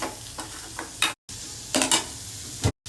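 Crushed onions and ginger fry in a pan, sounding as short bursts of sizzling and stirring scrapes with brief silent breaks. The sound is close and loud, with no voices.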